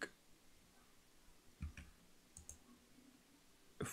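A computer mouse is right-clicked while working in Blender software, giving a few sharp, faint clicks spread over a quiet background.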